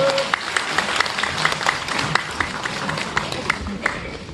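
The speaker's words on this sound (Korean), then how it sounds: "박수 부탁합니다" Audience at a Korean residents' meeting about Mokdong apartment complexes 1 to 3 applauding, a steady patter of many hands clapping at moderate loudness, with a voice speaking over it.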